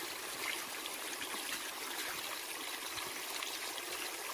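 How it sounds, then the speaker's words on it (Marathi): Water from the outlet of a 5 HP Sadbhav solar pump running under cloudy skies, a steady broadband rush of gushing flow, loud and continuous with no voices. "ढगाळ वातावरणात सद्भाव सोलर पंप किती पाणी मारत आहे ते आपण पाहणार आहे"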